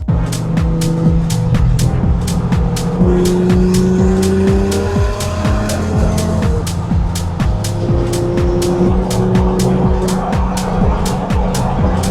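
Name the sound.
Porsche 997 car driving off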